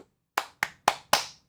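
Four sharp hand claps at an even pace, close and clear, with nothing else around them.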